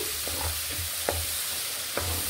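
Ginger garlic paste frying on low heat in a pan with a steady broadband sizzle, broken by three sharp spoon scrapes and taps as it is stirred.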